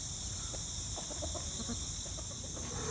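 Backyard hens give soft, scattered clucks at low level beneath a steady high hiss and faint ambient rumble.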